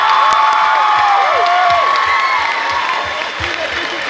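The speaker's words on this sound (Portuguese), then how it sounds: "Quero começar pedindo uma salva de palmas para todos os educadores." An audience at a school award ceremony applauds and cheers for educators, loud close clapping mixed with shouts and whoops from children, steady throughout with some voices rising above.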